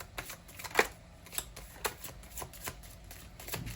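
A tarot card deck being shuffled by hand: a few soft, papery riffles and flicks at uneven intervals, close and fairly quiet, with no voices.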